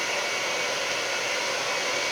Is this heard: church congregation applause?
no